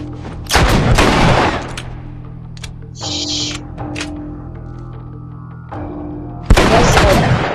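Gunshots in The Last of Us game: two loud, close booming shots, one near the start and one at the end, with quieter game sounds in between.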